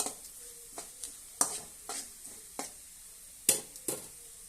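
Dry red chillies and curry leaves fry in hot oil for an Andhra-style sambar, with a soft continuous sizzle and repeated sharp spoon scrapes and taps against the pan at irregular intervals.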